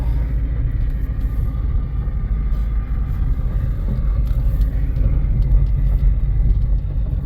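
A 2014 Ford Mustang fitted with nitrous and new control arms on a test drive, a steady low engine rumble and road drone heard from inside, fairly loud and even throughout, with no one talking.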